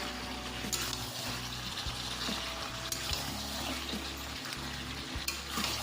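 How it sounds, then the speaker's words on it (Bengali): Chicken pieces stir-fry in their own released oil, slow-cooked kosha style, giving a continuous sizzle with occasional scraping strokes of a spatula against the pan. "মাংসর তেলেই মাংস রান্না হচ্ছে"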